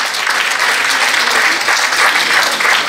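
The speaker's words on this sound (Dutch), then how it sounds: "Geef je nog een dadelijk applaus, Katrien Kasso of Roccolina." Dense, steady audience applause at a Mrs Universe Belgium pageant, loud and close, continuous clapping with no talk over it.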